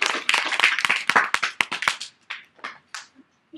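A small group claps for a group of girls after their presentation, scattered close hand claps that start dense and then break into sparse, uneven individual claps before dying out.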